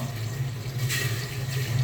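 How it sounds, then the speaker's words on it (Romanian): Water runs steadily into a pot of vegetables, parsley, celery root and parsnip, for Romanian fish soup, a continuous rushing pour with a low hum underneath, close and alone. "Completăm cu apă"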